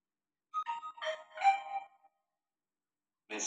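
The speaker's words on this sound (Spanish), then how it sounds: "Mensaje de texto." A phone's text-message alert sounds once, a short cluster of bright chiming tones lasting about a second and a half. After a gap of silence, another bright sound starts at the very end. Both are quiet and heard alone.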